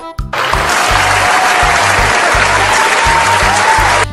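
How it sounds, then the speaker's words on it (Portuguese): Loud audience applause rises quickly and holds as a dense, continuous wash of clapping, with a low voice murmuring faintly underneath. "palmas!"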